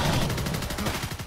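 Rapid pulse rifle fire from the video game Evolve rattles out in a dense, loud, continuous burst of shots.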